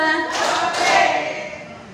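An audience in an Indonesian school curriculum briefing claps on cue, a short burst of hand claps starting just after the beginning, then a second burst, each fading into a faint room tail.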